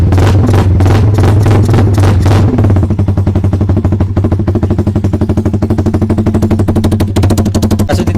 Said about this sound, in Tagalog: Rev natin ang konti mga boss.